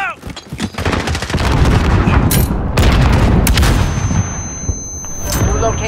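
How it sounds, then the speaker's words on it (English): A grenade blast and rapid gunfire in Call of Duty Modern Warfare during an assault on a headquarters, with dense, loud bursts of shots and booms that keep up almost throughout. "Grenade out!"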